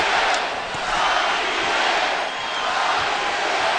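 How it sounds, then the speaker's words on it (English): Boxing arena crowd of over 14,000 in Fresno's Central Valley chanting for their homegrown world champion, a dense, loud, sustained roar of many voices with no gaps. "listen to this crowd as they chant for their homegrown world champion"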